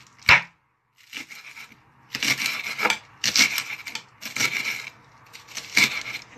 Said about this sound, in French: Je vais couper les petits morceaux.